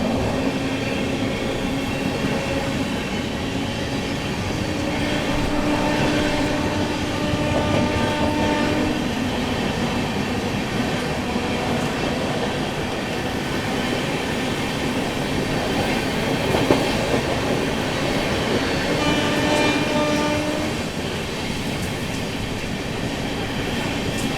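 Seemanchal Express 12487, Jogbani to Anand Vihar, running through Buxar railway station without stopping: a steady loud rumble and rattle of wagons on the rails with rhythmic clatter, heard from on board and carrying on throughout.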